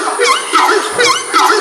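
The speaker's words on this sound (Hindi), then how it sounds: "Horned screamer. इसकी आवाज सुनकर आपको ऐसा लगेगा जैसे कोई गधा जोर से चिल्ला रहा हो।" Horned screamer bird call: four loud, close honking cries in quick succession, each a harsh, wavering, donkey-like bray.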